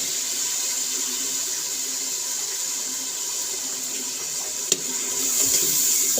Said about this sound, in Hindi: पानी थोड़ा सा और लगाते हैं